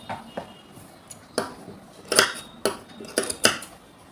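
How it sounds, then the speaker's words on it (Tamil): Scissors cut through spare blouse fabric, giving a series of sharp, close snips and clicks at an irregular pace against a quiet background. "இந்த எக்ஸ்ட்ரா இருக்கிற கிளாத்தை நான் கட் பண்ணி வச்சு போகிறேன்"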